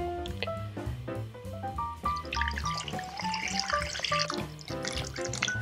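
Water pours into a stockpot for chicken bone broth over salted vegetables, a steady close splashing stream with clinking and rising tonal filling sounds, loud and continuous with no talk.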